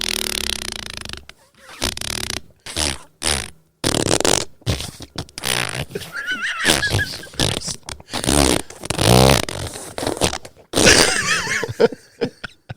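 Long, drawn-out fart noise broken into sputtering bursts, loud and close, during a comedy podcast, with coughing and laughter mixed in.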